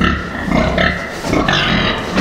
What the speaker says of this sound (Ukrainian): Це ті свиноматки, яких я планував оставляти собі на ремонтних свиноматок.